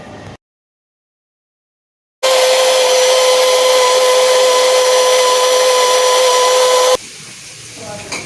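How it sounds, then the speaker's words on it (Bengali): A kitchen mixer grinder blends ginger and garlic into paste, a loud steady whirring motor with a sustained hum running for several seconds after a pause, then cutting off into quieter kitchen noise. "অন্যদিকে মিক্সচার মেশিনে যেইগুলো মিক্সচার করার সেগুলো পেস্ট করে নেব"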